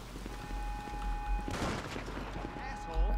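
Gunfire rattles in GTA 5 over a steady game background, with a burst of shots near the middle and a loud thump at the end, and a voice talks over it.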